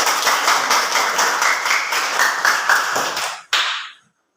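A group of children in a classroom claps in a quick rhythmic pattern, loud and close, ending with one final sharp clap before silence.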